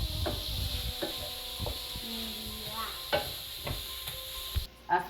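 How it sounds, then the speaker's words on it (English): Vegetables for cauliflower fried rice stir-fry in a pan over high flame, with repeated scraping stir strokes every second or so over a constant sizzle. "We have to put it at a high flame and then not cook the vegetables, but fry them for like 30 seconds."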